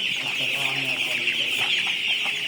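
Many chickens cluck and chatter together in a busy, continuous din, close and fairly loud, on a crowded poultry farm.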